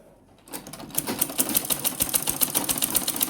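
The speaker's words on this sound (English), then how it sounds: "So now we top stitch it also so it can look very neat." A sewing machine top-stitches along a zipper on a small fabric coin purse, a fast, steady mechanical chatter of needle strokes that starts after a brief quiet moment and runs close and even to the end.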